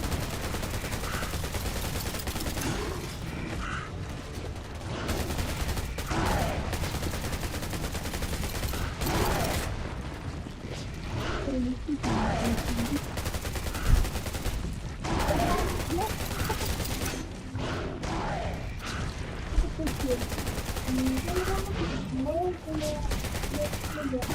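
Sustained gunfire in the video game Undawn, aimed at a boss's head, rattles almost without a break as dense rapid bursts, with talk mixed in underneath.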